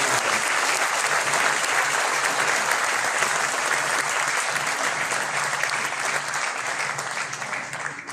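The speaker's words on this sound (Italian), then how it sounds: "A loro va il più grande applauso" At a civic event in Gemona opening a new emergency centre, an audience gives sustained, dense applause that holds steady before tapering slightly toward the end.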